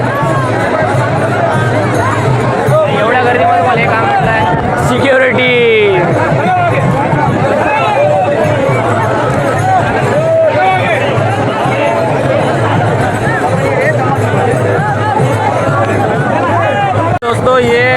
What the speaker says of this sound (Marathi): माऊलींच्या अश्वाच्या दर्शनासाठी खूप गर्दी आहे